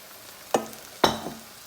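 Apple cider vinegar is poured from a nearly empty bottle into beef cooking in a hot pan, giving two short, sharp sizzling bursts about half a second apart over a quiet background.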